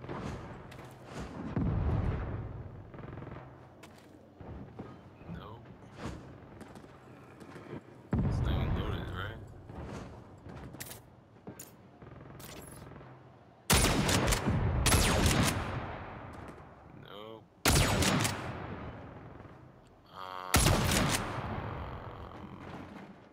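Booming cannon blasts ring out in the video game Saints Row, several heavy bursts spaced through the stretch, mixed with clanking mechanisms and other game noise.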